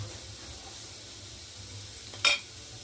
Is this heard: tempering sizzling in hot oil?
yes